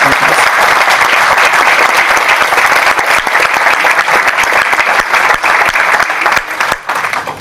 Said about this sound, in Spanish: Les pido un fuerte aplauso para todas las autoridades que se encuentran con nosotros.